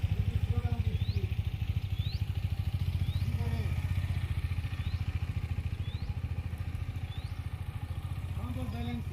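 An adventure motorcycle rolls slowly along a muddy track, its engine holding a steady low throb throughout with faint clattering, while someone talks over it.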